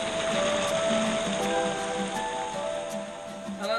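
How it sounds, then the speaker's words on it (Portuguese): Waterfall on the Ribeirão do Cafezal stream in Londrina, a steady broadband rush of falling water close by, continuous and fairly loud with no voices. "Mais uma cachoeira para vocês"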